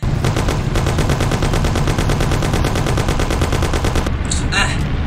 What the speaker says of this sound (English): You and Sam shoot them.